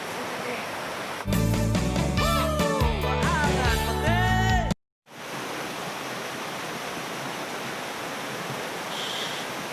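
Steady broadband rush of a river flowing near a steep bank amid an oil palm plantation, a continuous wash broken briefly by a burst of other sound and a short gap.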